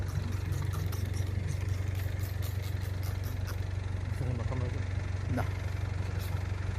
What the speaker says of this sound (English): It may sound like there's another car that's on at the moment.